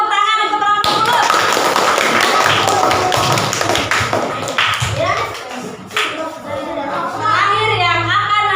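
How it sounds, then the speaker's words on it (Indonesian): Fifth-grade classmates clap for a student group in a classroom, a loud burst of scattered clapping and taps mixed with children's chatter and shuffling, fading as voices take over. "beri tepuk tangan untuk kelompok Kulut"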